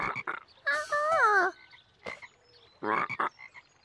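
Frogs croaking at a lake lagoon in a children's cartoon, a rapid series of rising croaks and short bursts spread across a few seconds, moderately loud with no talking.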